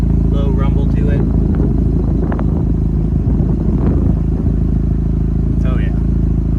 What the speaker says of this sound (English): It's got a little bit more of a deeper, smoother rumble at idle.